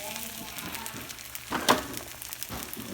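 An egg fries quietly in a pan with a soft sizzle while a utensil moves it around, including a brief louder scrape midway; the sound is faint and there is light background noise.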